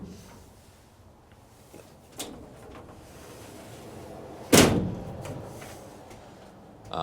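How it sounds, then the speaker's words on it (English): A latching bulkhead door slides and shuts inside a Mercedes Sprinter van, giving one sharp, loud clack midway through an otherwise quiet stretch, with a couple of faint knocks before it. "It came fitted with this really nice bulkhead, which has a kind of a latching door that slides."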